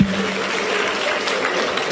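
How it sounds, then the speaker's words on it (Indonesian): Audience applause from a crowd, steady dense clapping throughout at moderate loudness with no voices over it. "tepuk tangan tuan-tuan"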